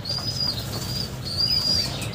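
A released racing pigeon, ring-banded with the GRPC North club, flaps its wings in steady flurries, fairly close and with no voices.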